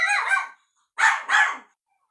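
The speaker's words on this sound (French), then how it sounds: "un chihuahua qui aboie, je vous dis que c'est pas triste" A chihuahua barks in three sharp, high-pitched yaps: one near bark, a pause of about half a second, then a quick pair, with no talking and silence in between.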